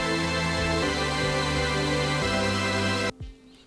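Two layered Serum synth chord progressions, one a hyper saw patch, play together in an uplifting drum and bass track, sustained bright chords changing every second or so before cutting off, leaving a faint tail.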